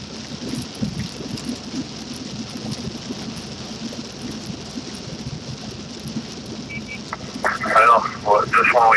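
Heavy rain drums steadily on a moving vehicle during a storm chase, a dense, continuous wash of noise, with a brief burst of voices near the end.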